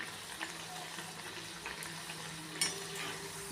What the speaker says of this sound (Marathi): छान आपण खरपूस होईपर्यंत तिला फ्राय करून घेऊयात